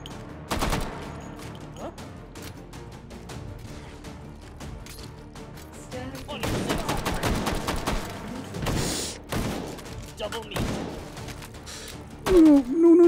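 Rapid gunfire in the VR shooter Hot Dogs, Horseshoes & Hand Grenades on a tower custom map, with dense bursts and single sharp shots throughout and a loud close volley near the end.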